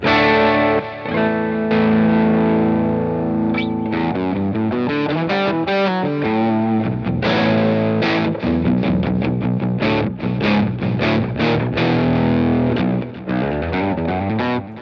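Electric guitar through a Hotone Binary amp modeler set to an Orange amp model, with a mildly overdriven, effected tone, strummed chords and picked notes played steadily and loudly with no talking.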